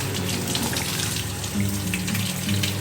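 Tap water running steadily over a head while hair dye is rinsed out, a continuous close splashing gush with slight shifts as it hits hair and sink, no talk.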